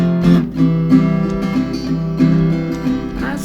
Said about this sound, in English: And I'm playing chords to make this ordinary sounding guitar sound